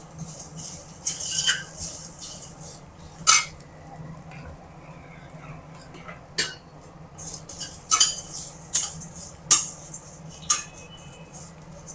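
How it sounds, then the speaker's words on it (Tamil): Grated coconut stirred in a pan over low heat for coconut rice, giving scattered sharp spoon scrapes and clinks against the metal pan that come in irregular bursts, close and fairly loud, with no talking. "அடுப்பை சிம்மிலே வச்சு கிளறுங்க, இல்லைன்னா தேங்காய் நம்மளுக்கு கருகிடும்"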